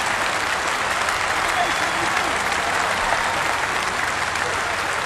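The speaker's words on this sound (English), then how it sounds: "Clapping above his head." A cricket crowd at a Test match at Cape Town between South Africa and England applauds a batsman's innings with dense, continuous clapping that holds steady and loud throughout.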